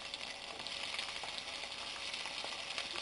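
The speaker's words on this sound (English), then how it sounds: "When the mustard seeds start popping, add the red chilies and the onions." Red chilies and onions frying with popping mustard seeds in hot oil give a continuous close sizzle, with faint scattered crackles and pops running through it and no voices.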